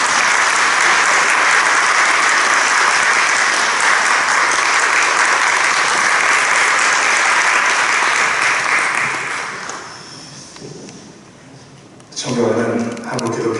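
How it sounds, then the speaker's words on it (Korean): Loud, steady applause from a large audience at a Korean Presbyterian church general assembly policy debate, welcoming a candidate for assembly moderator. It fades out around ten seconds, then a voice begins speaking. "우리 큰 박수로 모시겠습니다."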